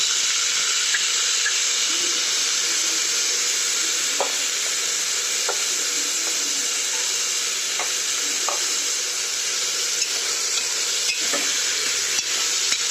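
Tomatoes sizzle and fry in a hot pan for spiced masala rice khichdi with curry leaves, a steady close hiss running throughout with occasional soft clinks of a spoon, no voices.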